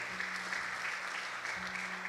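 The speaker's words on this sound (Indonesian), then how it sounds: "tepuk tangan buat Tony dong" A church congregation at a youth service claps for a man named Tony, steady applause running throughout with a low hum underneath.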